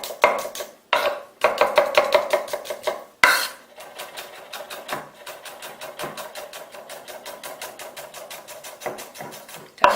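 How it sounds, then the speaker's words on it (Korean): A knife chops garlic on a cutting board in quick rhythmic strikes, first in short fast bursts broken by pauses, then a long even run of lighter taps, close and clear with no voices. "저는 마늘을 다질 거예요"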